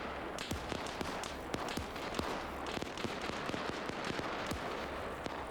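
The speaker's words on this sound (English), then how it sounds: "I'm gonna get some more artillery going, so fire support." Artillery and gunfire in a military trench-warfare video game, rapid sharp cracks and pops firing constantly and overlapping across the whole stretch, with bursts of dense fire over a continuous battle rumble.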